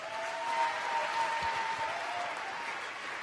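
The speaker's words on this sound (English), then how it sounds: "Round of applause, please," Audience applause for a speaker at an Ignite talk event, a steady wash of clapping from a crowd filling the whole moment at even loudness, with a faint sustained tone running beneath it.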